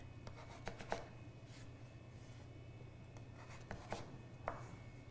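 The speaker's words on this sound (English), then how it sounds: "So I'm going to take my squash and using my bear claw, hold it in place and cut down" Knife cutting through butternut squash on a board: a handful of quiet, separate chops spaced irregularly apart over a steady low hum.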